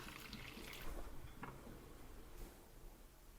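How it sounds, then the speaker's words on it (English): Beef broth for Korean beef soup is strained, producing a steady, soft pour and splash of liquid with a few brief surges. Quiet and close, with no voices. "strain the broth"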